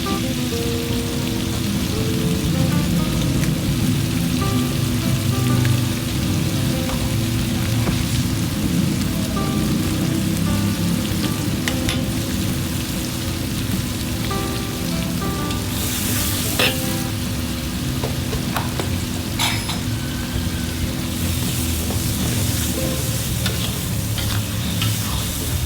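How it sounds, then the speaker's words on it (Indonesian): Chili peppers frying in oil for sambal, a loud, continuous close sizzle with occasional stirring scrapes and clinks in the pan throughout, with no voices. "Terakhir tinggal goreng cabai sambal. Tadi minyaknya udah aku kurangkan, sekarang tinggal jatuhkan cabainya."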